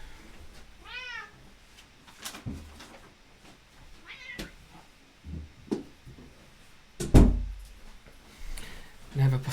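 A house cat meows several times in a room, the calls short and moderately close, alongside a few knocks and thumps from a drawer or door while someone talks.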